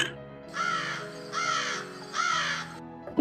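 Crow cawing in a Tamil cartoon, three loud, harsh caws in a row, each about half a second long, close and clear, with a short voice sound at the very end.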